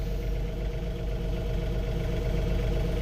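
A car engine idles steadily with the key on and engine running, a constant low rumble with faint clatter, close and even throughout with no talk.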